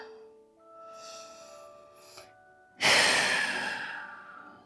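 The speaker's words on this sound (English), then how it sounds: "Deep breaths." Slow, deep breaths during a Pilates class, heard as a soft, drawn-out inhale followed by a louder, forceful exhale, close by with no talking.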